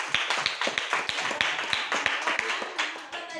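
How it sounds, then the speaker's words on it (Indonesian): Small classroom group clapping hands for a team of students, a sparse quick run of distinct claps, close and fairly quiet, with no talking. "Tepuk tangan untuk kelompok 5"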